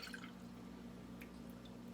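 Homemade elderberry syrup pours into mason jars, a faint, steady liquid trickle with soft drips over a low background hum, no voices.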